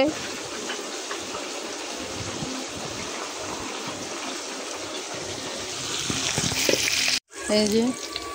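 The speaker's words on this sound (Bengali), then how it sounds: "মাছ ভাজা শেষ," Pomfret (rupchanda) fish sizzles steadily as it fries in oil in a home kitchen pan, a loud continuous hiss that swells near the end before a brief cutoff, with people talking over it.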